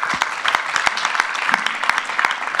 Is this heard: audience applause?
yes